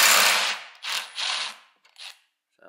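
A hand ratchet turning 3/8 inch bolts off a bracket on a Toro TimeMaster 30-inch mower, heard as a few short bursts of rapid ratcheting clicks, fairly close, with pauses between strokes and a brief rattle at the end.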